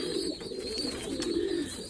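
Young racing pigeons coo in a short burst of low, throaty rolling calls, close and steady.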